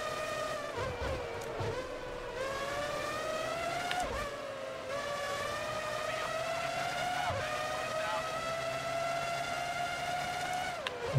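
A Formula One race car in the PS2 video game Formula One 03, on the San Marino circuit: a high, buzzing engine whine that rises through the gears, dips sharply under braking and climbs again as it accelerates, loud and continuous.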